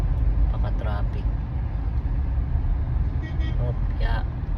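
Heavy traffic on EDSA with cars, buses and trucks, a steady loud low rumble of engines and road noise close by, with faint snatches of speech over it.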